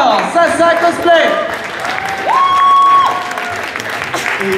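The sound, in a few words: audience applauding a cosplayer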